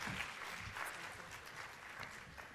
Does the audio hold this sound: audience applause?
yes